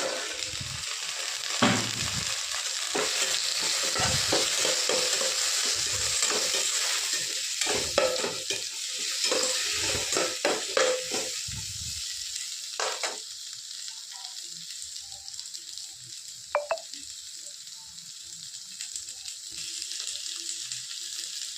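Onion and tomato sauté in a pan for a groundnut chutney. A loud, steady sizzle is broken by repeated spoon scrapes and stirs, then settles to a quieter hiss with occasional clicks.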